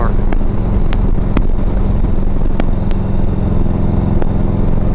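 A 1991 Harley-Davidson FLHTP cruising at 60 mph, a loud steady engine drone mixed with heavy wind rush over the microphone, with occasional sharp clicks and no speech.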